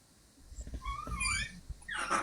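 A dog whimpers with thin, rising whines and snuffly breaths, faint and close, ending in a higher whining burst.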